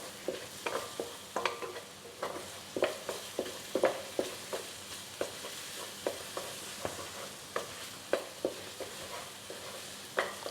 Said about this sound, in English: we're just going to saute the garlic and ginger for about 30 seconds